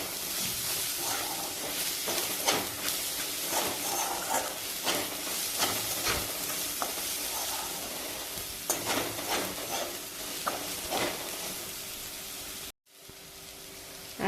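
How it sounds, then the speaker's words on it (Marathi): Spices sautéing over a low gas flame in a pan, a steady soft sizzle broken by the repeated scrape of a spoon stirring, close and continuous for most of the stretch before a brief cutoff near the end. "आता हे सर्व मसाले आपण चांगले परतून घेऊ। गॅस हा मंद आचेवरती करून हे मसाले परतून घ्यायचे आहेत।"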